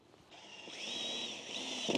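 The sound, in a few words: power drill drilling pilot hole into piping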